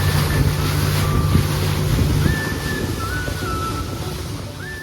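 Steady rush of wind buffeting the microphone over the churn of water and a low engine drone, riding on a moving boat around Sicily's Aeolian Islands, no voices.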